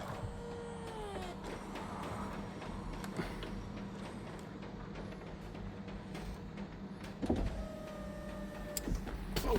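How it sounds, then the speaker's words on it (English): Hydraulic pump of a Porsche 996 convertible roof whines steadily and fairly close, its buzzing hum running throughout with a few higher motor tones and mechanical clunks, no voices over it. "The pump's a bit noisy, but it still works."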